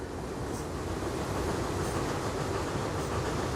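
A passenger train in the Transport Fever 2 video game rolls along with steady rumbling rail noise and faint clickety-clack, constant and close, no voices.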